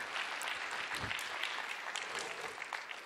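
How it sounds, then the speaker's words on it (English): An audience at a sports medicine panel breaks into steady applause, a dense, sustained wash of many hands clapping that fills the room with no talk over it. "How about a round of applause for Tony?"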